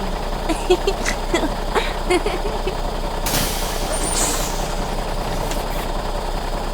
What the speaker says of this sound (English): Noisy bus. Yes, the bus has a big engine.